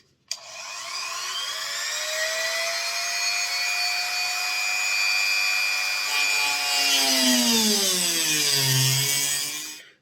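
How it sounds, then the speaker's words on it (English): A piece of brass tube being sawn through for a Bachmann Class G2A "Super D" 0-8-0 model locomotive repair, a steady, loud rasping cut lasting several seconds, its pitch sliding lower near the end before stopping, with no talking. "Just cut this piece of brass tube off."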